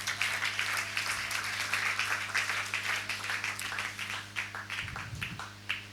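Church congregation applauding the word of God during a sermon, a sustained wash of clapping from many hands over a low steady hum, thinning into scattered claps near the end.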